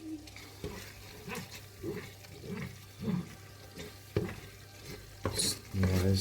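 A spoon stirring mussel tomato soup in a cooking pot, repeated scraping and sloshing strokes in a steady rhythm at close range, with a light simmering bubble underneath.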